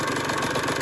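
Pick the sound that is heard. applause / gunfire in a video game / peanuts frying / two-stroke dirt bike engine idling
two-stroke dirt bike engine idling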